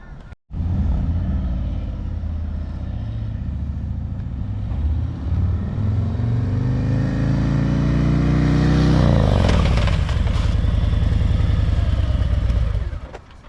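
A motorcycle engine roars loudly, then its pitch sweeps down as the bike slows hard under front and rear brakes, ending in a rattling idle.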